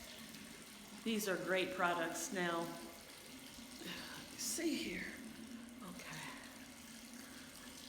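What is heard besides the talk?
warm water running from a tap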